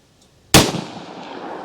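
A single sharp, loud gunshot cracks out from a .327 Magnum firing Federal Premium HST ammunition, followed by a short decaying echo, with no talk.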